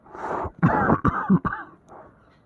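An elderly grandfather character in a Bangla cartoon coughs and clears his throat in several harsh, close bursts, each throaty hack clustered together before trailing into a softer rasp.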